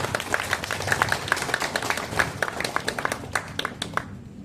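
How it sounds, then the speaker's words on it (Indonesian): Applause from an audience at a neighborhood leaders' inauguration ceremony, a dense steady clapping from many hands for about four seconds before tapering off. "Boleh tepuk tangan."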